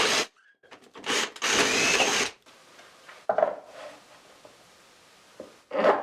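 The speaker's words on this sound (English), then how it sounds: "I just have to drill them" A power drill bores holes through wood for bolts during a router table build, several loud whirring bursts of varied length separated by quiet gaps, the longest grinding steadily for about a second.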